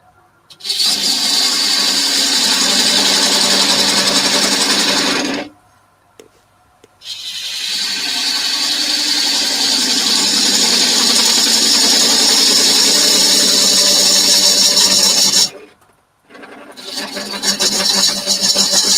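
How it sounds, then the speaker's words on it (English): Chisel cutting wood on a spinning lathe, a loud steady hiss and whir that runs for several seconds, stops briefly, then resumes for a long stretch before cutting off again, with no talk. "That chisel needs sharpening, Joe."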